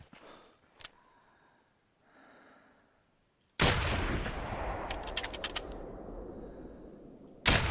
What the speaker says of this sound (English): What I'll try and do is just get out and shoot at it.